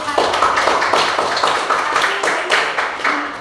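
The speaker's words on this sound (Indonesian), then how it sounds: "tepuk tangan buat dayukan" A classroom full of students claps for a student group after its presentation, a dense, fairly loud burst of hand claps pulsing in quick uneven beats with no talking.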